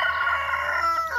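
A rooster crows once, a loud, drawn-out call with a strained, wavering tone that trails off at the end.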